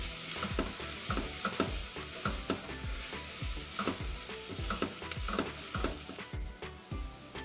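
Garlic and ginger paste sautéing in a pan while ground meat stuffing for bitter gourd is prepared, a steady loud sizzle broken by repeated scraping stirs at an irregular rhythm, close by with no talking.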